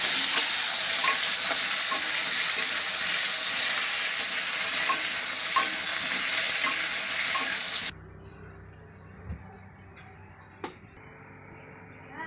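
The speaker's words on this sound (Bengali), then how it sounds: "চিংড়ি মাছটা ভেজে নেওয়া হচ্ছে" Shrimp frying in a pan, a loud steady sizzle with stirring for about eight seconds, then it drops away to near quiet with a few faint knocks.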